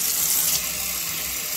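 Water runs steadily from a kitchen tap for oatmeal prep, a continuous close hissing splash with no talking.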